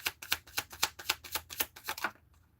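A deck of cards being riffle-shuffled up close, about ten quick crisp ruffling bursts in a steady rhythm over two seconds before stopping, loud and alone.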